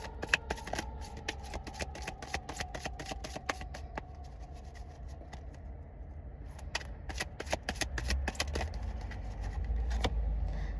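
Oracle cards shuffled by hand for a card reading, a steady run of crisp riffling flicks and slaps close up, pausing briefly midway before resuming, with a faint low rumble underneath.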